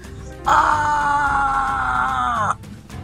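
A man lets out a single long, loud scream of pain as his right rib snaps, a sustained anguished cry lasting about two seconds over a low rumbling dramatic background before it cuts off.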